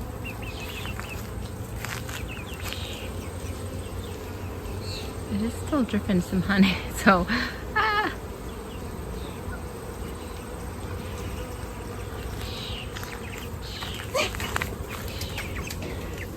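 Honey bees buzz faintly around the microphone amid outdoor background noise, with a louder close pass near the middle; a person speaks briefly.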